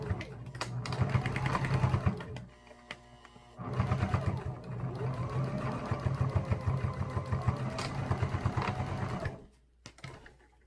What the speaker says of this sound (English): Sew it straight down on the stitch line already there.